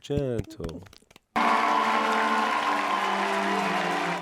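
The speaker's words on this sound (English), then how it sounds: "Damn, they really have to clap for a long time" Sustained crowd applause from a scene in Harry Potter and the Chamber of Secrets (2002) sets in abruptly as a dense, steady wash of clapping, preceded by a few seconds of talk.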